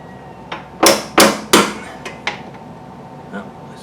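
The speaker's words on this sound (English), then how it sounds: "So I'm trying to put it on here and hammer this." Hammer blows striking a Nissan 350z reaction arm during a cotter pin repair, about six sharp metallic knocks with the loudest three in quick succession near the middle, close and alone without talk.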